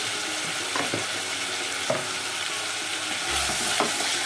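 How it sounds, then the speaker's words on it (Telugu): Ginger garlic paste frying in oil in a pan, with a continuous close sizzle and occasional scraping stir strokes, loud and steady with no one speaking. "ఇది కూడా పచ్చి వాసన పోయే వరకు వేయించుకొని"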